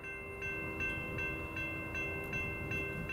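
A CSX freight train passes southbound at night with a steady, rumbling roll and a rhythmic clatter of wheels over rail joints. A sustained tonal whine rides over the noise at moderate loudness.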